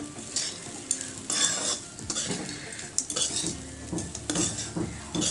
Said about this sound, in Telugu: బాగా కలిసేటట్టుగా కలుపుకోవాలి. రైస్ మొత్తము, ఈ పౌడర్ మొత్తం రైస్లో కలిసిపోవాలండి.